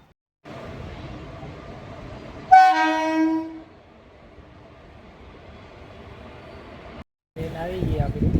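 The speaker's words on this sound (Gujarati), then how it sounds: "ટ્રેન આવી ગઈ આપણી" A train arriving at a railway station, with a steady rumble of rolling carriages, a loud horn blast partway through, then continued low running noise and a brief break before more station noise.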